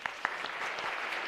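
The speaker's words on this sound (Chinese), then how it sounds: "让我们拍掌" Brief round of applause from guests at a church wedding ceremony, a few distinct claps at first swelling into a steady, moderately close patter.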